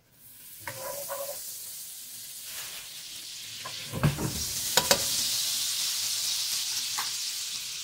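Butter melts into about two tablespoons of hot olive oil in a pan, with a soft hiss that swells into loud, steady sizzling and crackle plus a few utensil clicks. There are no voices.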